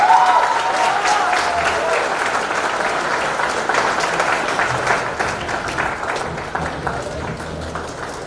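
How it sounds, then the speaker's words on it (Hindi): A large audience at the VLCC Femina Miss India 2020 pageant gives a proud mother loud, sustained applause. The dense clapping holds steady for over eight seconds and eases slightly toward the end. "इस प्राउड मम्मी के लिए एक बार जोरदार तालियां होनी चाहिए"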